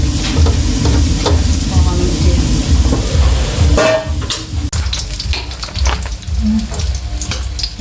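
Food fries in hot oil until golden brown, giving a loud, continuous sizzle broken by occasional stirring scrapes, with a brief drop in level midway.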